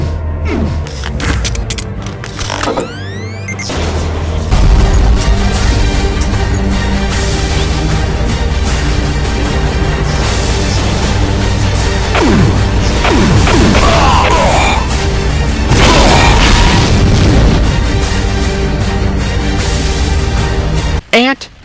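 Demon Tech Devastator weapon fire in a Doom mod rings out in dense, loud repeated blasts and crashes amid mechanical clatter, thick with chaotic battle noise throughout.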